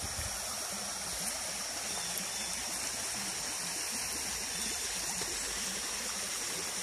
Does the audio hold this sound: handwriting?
no